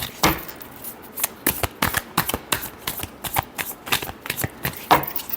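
Tarot cards being shuffled by hand in a run of crisp, rapid riffling bursts, close and fairly loud, with brief pauses between flurries and no talking.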